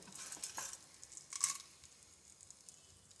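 Mustard seeds, cumin and urad dal tempering in hot oil for semiya upma, a quiet crackling sizzle with a few brief scraping stirs near the start and middle.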